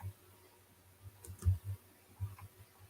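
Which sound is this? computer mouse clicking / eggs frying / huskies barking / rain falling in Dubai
computer mouse clicking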